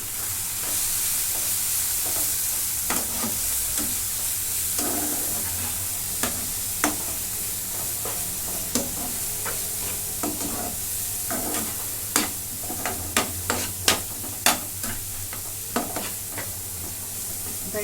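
Pav bhaji masala and red chili powder sauté in a pan, with a soft continuous sizzle under frequent sharp spatula scrapes and taps against the pan, growing busier toward the end, with no talking.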